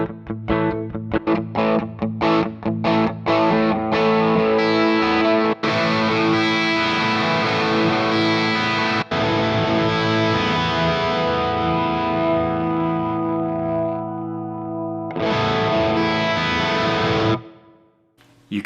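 Heavily distorted electric guitar with a shimmering chorus effect: sharp chugging hits at first, then long sustained chords, a pause, and a final ringing chord.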